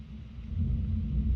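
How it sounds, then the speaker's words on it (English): Deep thunder rumbles indoors, a low rolling roar that swells after a brief quieter start and holds steady, heard alone without talk. "The thunder is really loud."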